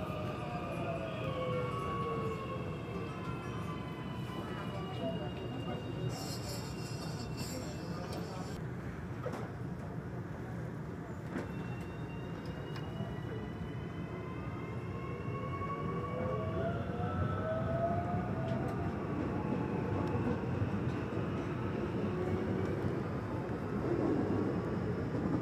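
A CPTM Line 10 commuter train runs steadily on the São Paulo suburban line toward São Caetano do Sul, a continuous rumbling roar with rising and falling whines, while a recorded announcement voice plays over it.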